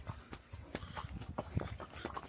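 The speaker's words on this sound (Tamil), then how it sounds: "घोड़े का आवाज देखा?" Horse near snowy mountains at Sonamarg, Kashmir, with clip-clopping hooves in a quick irregular rhythm, moderately close amid outdoor background noise.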